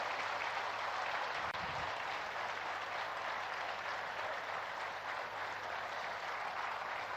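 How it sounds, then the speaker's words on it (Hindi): Sustained, dense crowd applause at a large Indian political gathering honouring the prime minister, a steady loud roar of many hands clapping throughout with no talk over it. "हम सब तालियों की गड़गड़ाहट कर रहे हैं।"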